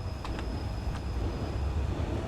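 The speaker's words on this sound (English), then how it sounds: "looks like there's another train coming in here" Train arriving on the Albula Line in Switzerland in a railway simulator, a steady low rolling rumble with a faint high whine and a few soft clicks.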